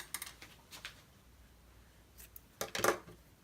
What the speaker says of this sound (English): I'm going to cut my yarn and fasten off